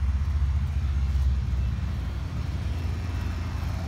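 A 1979 Chevrolet El Camino, freshly fueled after sitting for about a year, idles with a steady low rumble, close by and continuous with no voices.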